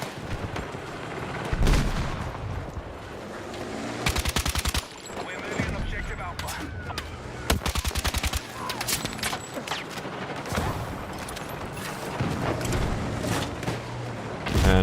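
Gunfire in Battlefield 6 rattles almost without pause in dense automatic bursts, with sharp rapid rounds and scattered booms, loud and close throughout, while a player talks over the noise.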